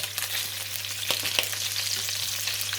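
Seasoned prawns fry in a pan with a dense, bright sizzle, while a couple of quick stirring scrapes cut through near the middle; close and steady, with no voices.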